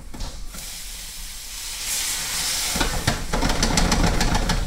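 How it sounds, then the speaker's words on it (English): Water splashed into a hot pan of Brussels sprouts and butter bursts into loud, rising steam and sizzle, building and crackling more intensely toward the end. "Look at that steam, it's great."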